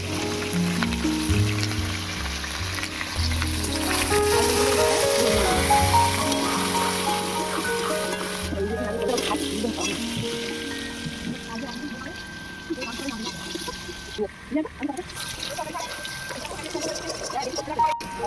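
Oil sizzles and crackles steadily as potatoes fry, with a person talking over it and a faint tonal background.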